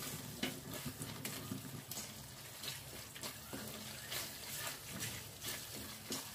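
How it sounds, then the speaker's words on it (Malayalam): Egg roast masala stirred in a pan after a teaspoon of sugar goes in, cooking over a low flame in oil, with a steady soft sizzle and light irregular scraping of the spoon, close and quiet, without talking. "ഇത് നന്നായിട്ടൊന്ന് ഇളക്കാം"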